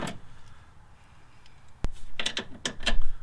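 A ratchet wrench loosens the starter bolts on a 1987 Ford Ranger, first quiet, then a sharp clack followed by bursts of rapid metallic clicking, close and loud.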